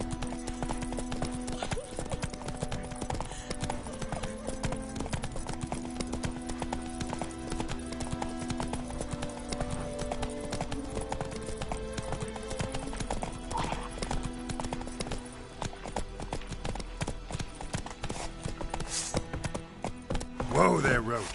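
Hoofbeats of Roach, Geralt's horse in the video game The Witcher 3, a steady rhythmic clip-clop at a trot with an occasional whinny near the end, under background music and voices.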